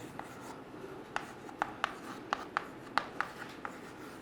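Chalk or marker taps and scratches on a board in a string of short, sharp strokes, close and clear over a quiet room.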